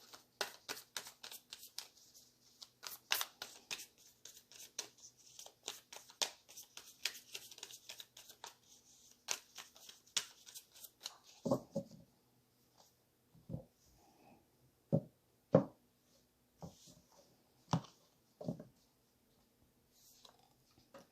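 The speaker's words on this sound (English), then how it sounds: "I think I'll cut the deck." Tarot cards being cut and shuffled: a dense run of soft, quick riffling clicks for about ten seconds, then a handful of separate slaps and taps as cards are laid down, close and quiet with no talking.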